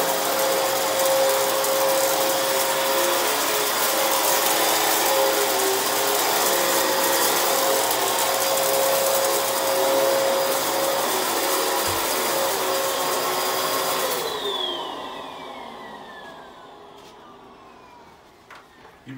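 A carpet buffer machine runs steadily and loudly with a constant motor whine and brushing hum, then winds down and fades out over the last few seconds.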